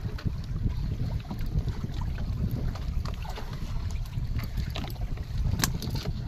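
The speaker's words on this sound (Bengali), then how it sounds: "আজকে এত ঢেউ হচ্ছে, মানে হাওয়া হচ্ছে" Waves and gusting wind buffet a small fishing boat on a Sundarbans river, a continuous rumbling wash with choppy low thuds and wind noise on the microphone, no voices.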